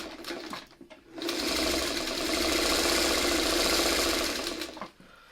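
A sewing machine stitches fabric in one steady, fairly loud whirring run of about four seconds, preceded and followed by brief handling noises, with no talking.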